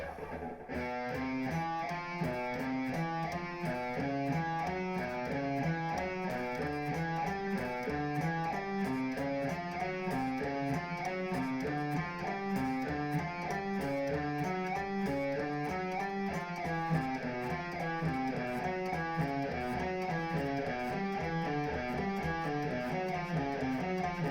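Fast, even sweep-picked electric guitar runs sweep up and down in a steady repeating B Aeolian exercise pattern, played continuously and fairly quietly for the whole stretch.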